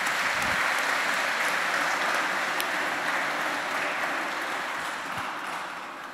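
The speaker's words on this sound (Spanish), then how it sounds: "denles un aplauso a esos estudiantes" Applause from a congregation at a solemn Sunday Mass for students, a dense steady wash of clapping that holds loud throughout and tapers slightly toward the end.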